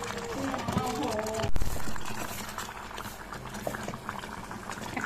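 Beef bubbling away in a mini rice cooker, a steady low boiling rumble throughout with a brief louder bump early on, close and continuous.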